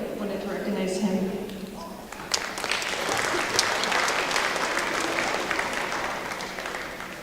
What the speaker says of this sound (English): another round of applause for Ms. Bordeaux